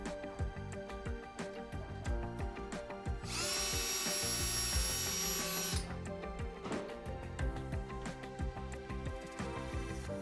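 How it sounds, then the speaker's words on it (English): A power drill driving leg bolts into barn door mounting hardware in a log home, a whirring burst of a few seconds amid rattling knocks and handling clatter, close and with no talk. "Now we'll install the leg bolts."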